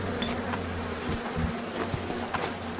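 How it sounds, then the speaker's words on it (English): Bees buzz steadily in the video game BioShock Remastered, a close, continuous droning hum with a few brief louder swells and no talking. "They leave once the bees come back."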